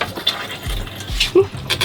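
Inside a narrowboat, the water pump runs with a low mechanical whirring and rhythmic clicking pulses, close and moderately loud, with faint gurgling.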